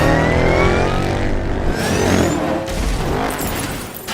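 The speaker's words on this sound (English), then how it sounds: "dropping his audience smack into the more fun side of the virtual OASIS, with Wade gearing up for a very important action-packed race" Race cars in an action-packed virtual race roar past in a loud, dense burst of revving engines with rising and falling pitch and crashing impacts, as in a busy film soundtrack.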